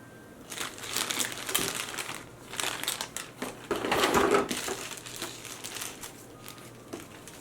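Plastic packaging around a One Piece Yamato figure crinkles and crackles during unboxing, in bursts of close, sharp rustling with short pauses between handfuls.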